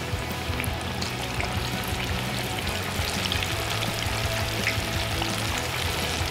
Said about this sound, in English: So we've got 6 of the half chicken thighs just bubbling away.